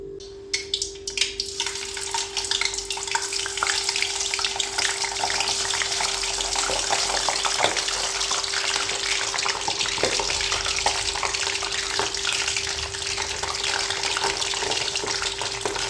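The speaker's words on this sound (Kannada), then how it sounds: "ಫ್ರೆಂಚ್ ಫ್ರೈಸ್ ರೆಡಿ ಆಗ್ತಾ ಇದೆ." French fries frying in hot oil, a loud, dense and continuous crackling sizzle that stays close and steady throughout, with a faint hum underneath and no voices.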